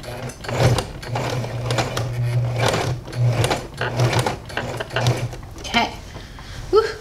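A sewing machine stitches a zigzag on black and white print fabric, running in a steady rapid mechanical whir with rhythmic clacking, pausing briefly and restarting, close and fairly loud.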